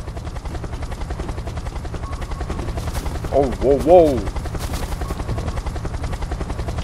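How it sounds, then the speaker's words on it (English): Helicopter in the Unturned video game, a steady broad rotor and engine drone running throughout, loud and continuous, while a person exclaims briefly over it midway. "Destroy the helicopter."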